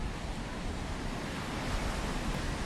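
Steady roar of ocean surf breaking along the rocky shore of a seabird island, a dense continuous wash of waves with no gaps, fairly loud and filling the scene alone.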